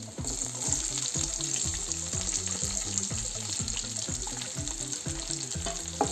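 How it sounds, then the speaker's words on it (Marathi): Garlic and onions fry in a pan for a Marathi gawar bhaji, a soft, steady sizzle broken by regular stirring strokes, close and fairly quiet, with no talking. "लसणला 1-अर्धा मिनिट आपण परतून घेऊ आणि कांदे पण टाकून घेऊ"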